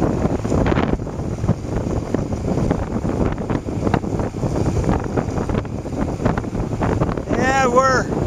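Heavy wind noise roars across the microphone during a cruise on Honda Rebel motorcycles, a loud steady rush masking any engine sound, with a voice briefly heard near the end.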